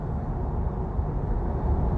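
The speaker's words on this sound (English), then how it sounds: "Yeah, there's some wind noise from behind." Wind noise from the rear of a moving VW ID Buzz towing a trailer: a steady low rumbling rush heard from inside the cabin, continuous and even, with no talking.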